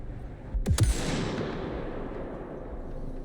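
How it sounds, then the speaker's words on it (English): Two sharp gunshots from the video game Vampire: The Masquerade - Bloodlines 2 crack close together near the start, followed by a long rumbling tail of reverberant noise with no talking. "They're still shooting and being shot at."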